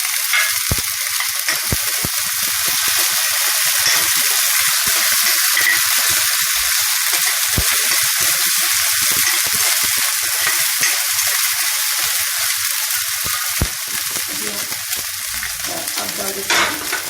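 Ginger garlic paste fries steadily in a pan for pumpkin chola masala. The sizzle is dense and continuous, with occasional sharp clicks of stirring, and no voices.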